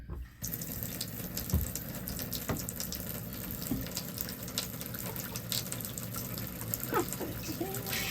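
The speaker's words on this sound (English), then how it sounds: "So let me start hot water." Hot water runs steadily from a tap into a sink while yarn is being dyed, a continuous close rushing stream that lasts throughout with small splashy fluctuations.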